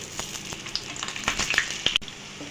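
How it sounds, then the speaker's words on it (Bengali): A slice of bread fries in oil in a pan, giving close, crackling sizzles with small pops and faint scraping stirs. No voices are heard. "এইভাবে রুটি একটা সাইড আমি লাল লাল করে ভেজে নিয়ে আবার অন্য সাইডটা আমি ভেজে নিচ্ছি"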